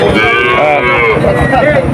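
A young calf moos loudly and close at Betaga cattle market in Bagerhat, one drawn-out call that fills the moment against busy market noise.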